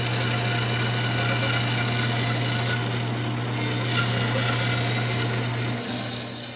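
A table saw rips through a wooden board freehand, with a loud steady motor hum and a continuous gritty cutting rasp close by that eases slightly as the cut finishes.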